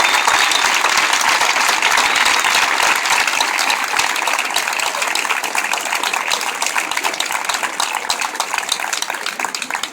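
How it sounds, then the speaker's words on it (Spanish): Loud, dense applause from a large crowd filling a packed public square at a Podemos political rally in San Blas-Canillejas, Madrid, a steady continuous wash of clapping that runs throughout and eases slightly toward the end. "para el que pido un aplauso muy fuerte."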